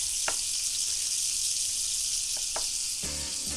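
A gyro burger patty sizzles steadily in a hot pan, a constant close frying hiss with a few sharp crackles and, near the end, a brief clatter as it is flipped.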